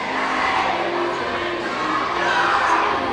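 Crowd of fans in a bright school gym at a boys' varsity basketball game between the Hornell Red Raiders and York Knights, a steady roomy murmur of voices and cheering throughout.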